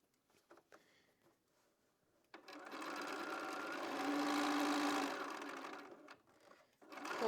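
A sewing machine stitches quilt seams in one sustained run of a few seconds, its motor humming and needle chattering rapidly, bracketed by quieter handling clicks before and after.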